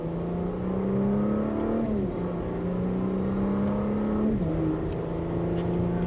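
A 2026 Audi SQ5 in dynamic mode pulling hard in second gear, engine note rising steadily then dipping at shifts before climbing again, heard from inside the cabin as a continuous smooth drone without speech.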